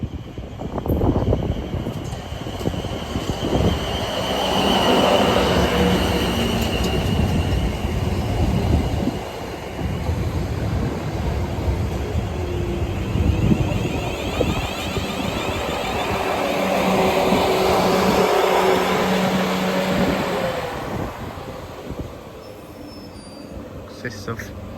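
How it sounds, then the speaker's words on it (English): Class 444 Desiro electric train 444045 departs Wareham station for Weymouth, a loud, close rumble of wheels and traction hum building and rolling past, with a rising motor whine, over about twenty-five seconds while a person talks. "Departing now is 444045 to Weymouth."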